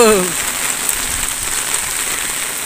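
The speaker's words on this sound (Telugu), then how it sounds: "ఇక్కడ వర్షం బాగా పడుతుంది" Heavy rain falls steadily in an open place in a dense, even hiss, with a brief voice-like tone fading at the very start.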